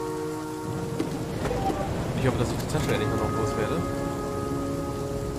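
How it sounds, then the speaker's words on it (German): Steady rain with rolling thunder in the survival video game The Flame in the Flood, a constant downpour hiss with a low rumble building midway, while someone talks over it. "Jetzt gibt's Regen."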